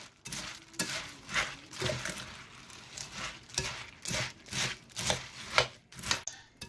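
Cornflakes are stirred into melted chocolate in a bowl with a spoon, giving repeated soft crunching, scraping strokes in an uneven rhythm, close and fairly quiet.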